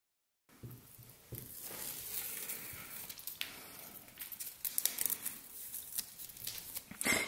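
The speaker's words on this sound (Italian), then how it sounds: "Vado a mettere il nastro di adesivo" Adhesive tape pulled from a roll and pressed onto a fabric bag, a steady crinkling, tearing rasp with small crackles that keeps going for several seconds, close up and alone.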